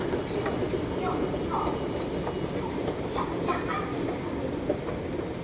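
Underground metro train interior with a steady, loud rumble and rattle of the carriage in motion throughout, light clicks and squeaks on top, and faint voices in the background.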